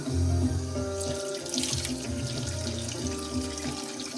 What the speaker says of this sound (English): I like to wash my face with really cold water